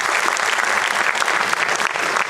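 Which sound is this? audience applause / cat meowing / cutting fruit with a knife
audience applause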